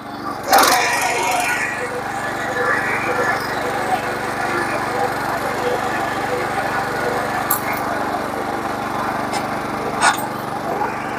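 A power tiller engine runs in first gear with a steady buzzing drone at close range, with a few knocks and clanks on top and someone talking over it.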